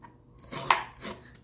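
Two sharp knife strikes chopping a carrot on a cutting board, crisp and close, separated by a short pause in an otherwise quiet room.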